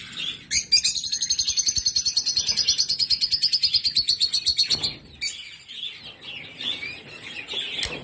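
African lovebirds chirp nearby in a rapid run of shrill, evenly spaced calls that stop abruptly, followed by softer scattered chirps over faint background noise.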